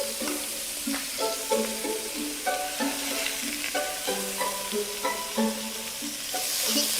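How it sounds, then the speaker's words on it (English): A steady broadband sizzle of meat frying in a hot oiled pan, with faint clinks and scraping as the meat is turned. "Expect to sizzle, because I've got this pan hot."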